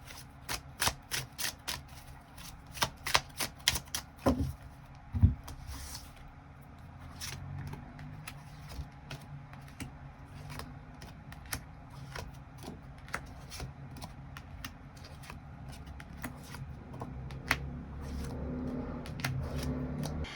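Tarot cards shuffled and drawn at close range: a rapid run of crisp riffling flicks at the start, then scattered soft slides and taps over a quiet room hum, with no talking.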